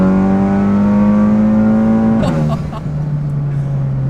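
Volkswagen Golf R engine revving hard under acceleration, a loud close rising drone that holds its climb before a gearshift drops the pitch, then carries on strongly.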